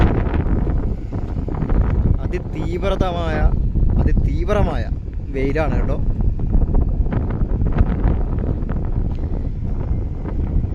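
Strong wind buffets the microphone at a NH66 highway construction site, a steady low roar that runs throughout while someone talks over it.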